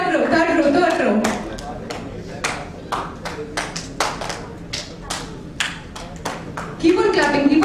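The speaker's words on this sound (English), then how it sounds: "Keep on clapping." Scattered individual claps from a product launch event audience in Mumbai ring out one after another in an uneven sequence, with voices talking at the start and end.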